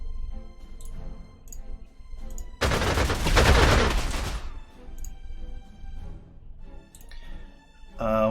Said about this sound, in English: I'm going to shoot your ass down.